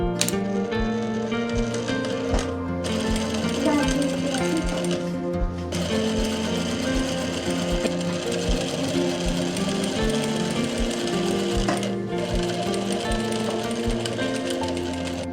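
A sewing machine runs fast, stitching a zip strip onto the back of a kurti, its rapid needle chatter steady and close, with two brief pauses and no talking.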